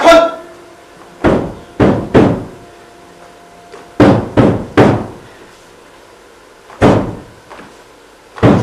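Someone knocks hard on a door in loud, close bursts of two or three raps with pauses between them.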